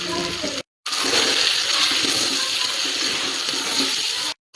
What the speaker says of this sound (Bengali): দিয়ে দেব সামান্য একটু জল